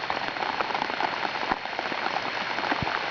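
Heavy rain pours down on a lake, a dense and steady hiss of countless drops striking the water, loud and close with no voices.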